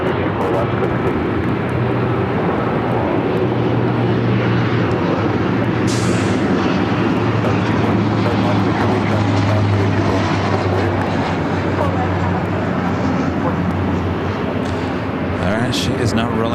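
Airliner on its takeoff roll down runway 24 Left at LAX, a loud, continuous jet engine roar holding steady from start to finish, with voices talking over it.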